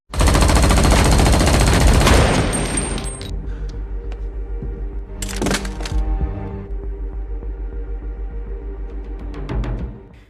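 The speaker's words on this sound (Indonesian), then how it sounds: "ia pun terpaksa ditembak mati oleh pasukan militer" Military troops fire rapid automatic gunfire in a film scene from Deadlock (2021). A loud, dense burst opens the clip, then fades into sharp scattered shots and metallic clatter, with another crack partway through.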